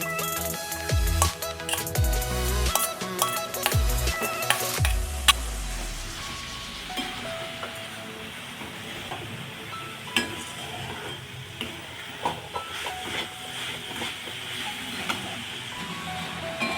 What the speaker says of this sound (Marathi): या स्टेजला आपल्याला हे नारळाचं पूर्ण भुगा हा असा टाकून द्यायचा आहे